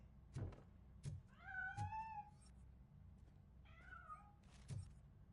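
A cat meows twice, both calls drawn out and wavering, interspersed with soft thumps and knocks, fairly quiet with no one talking.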